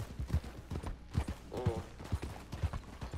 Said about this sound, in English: My Red Dead Redemption horse.